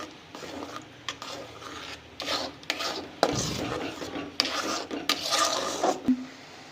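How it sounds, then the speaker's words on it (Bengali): Raw mango pulp with sugar and salt being stirred in a pan for aamsotto, repeated close scraping and rubbing strokes of a spatula against the metal at an irregular rhythm, with a soft sizzle beneath. "এবার এই আমটাকে আমরা একটু বেশ কিছুক্ষণ ভালো করে চালিয়ে নেব।"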